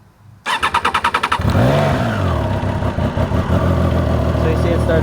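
A Triumph Tiger 660 motorcycle engine cranks with a quick rhythmic starter chatter, then catches and settles into a loud, close rumbling idle with a brief rev.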